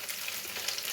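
Onions sizzle steadily in a frying pan, a close, continuous hiss and crackle with no voices over it.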